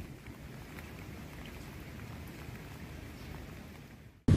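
Heavy rain and gusting wind from Typhoon Noru roar steadily as a low, dense wash, ending in a brief sharp burst.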